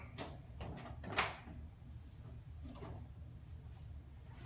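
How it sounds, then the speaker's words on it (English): A heavy oven door clunks and creaks open for baking ciabatta, with a sharp metallic bang partway through, in a quiet kitchen. "Open the door"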